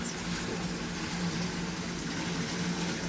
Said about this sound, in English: Just the sound of the water, the warmth of the water